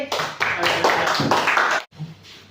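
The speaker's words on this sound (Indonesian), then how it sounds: "beri aplaus lagi" A classroom group claps, a dense burst of applause lasting almost two seconds before breaking off, then a few scattered claps and a brief voice trail after.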